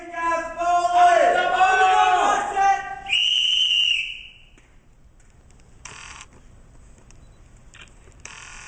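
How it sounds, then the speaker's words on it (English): A soldier blows a whistle fiercely, one long piercing shrill blast that cuts over a shouting crowd, followed by a few short, sharper whistle chirps after the crowd noise drops away. "he put a whistle in his mouth and blew it fiercely"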